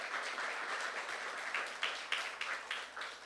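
A church congregation applauds, a moderate wash of many hands clapping with rhythmic surges, somewhat distant and fairly quiet.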